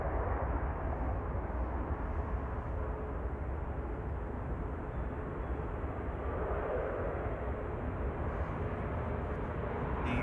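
A Ryanair Boeing 737-800 from Milan arrives at Manchester Airport, a steady broadband engine rumble and rush that holds constant at moderate distance with no voices.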